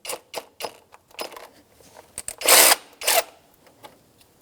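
On a 2004-2009 Subaru Outback, a 12mm socket loosens the A/C belt pulley nut in a series of short ratcheting and tool bursts, with two longer, louder runs near the end and no talking.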